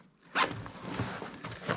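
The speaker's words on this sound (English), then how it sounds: "There are two zippers for the hydration compartment, one on each side." Zipper on the hydration compartment of a 5.11 Rush 24 2.0 backpack, drawn in one quick close rasping pull with a second short tug at the end, quiet and alone.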